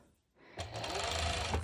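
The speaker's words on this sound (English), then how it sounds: "I realize you might not hear me when I'm serging" A serger stitching swimsuit fabric for a bikini top starts after a brief quiet moment and runs as a steady, loud, close mechanical whir to the end.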